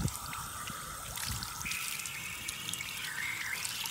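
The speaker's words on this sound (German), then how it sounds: "in der Höhe nochmal einen Brunnen aufgestellt, damit das Wasser kann fließen" Water from a hillside fountain flowing and trickling down, a close, continuous splashing trickle with scattered bright drips throughout.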